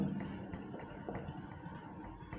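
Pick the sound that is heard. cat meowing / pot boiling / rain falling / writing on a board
writing on a board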